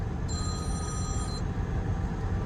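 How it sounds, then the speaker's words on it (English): A phone rings with a bright electronic tone for about a second inside a moving vehicle, over a steady, loud rumble of engine and road noise. "phone's ringing"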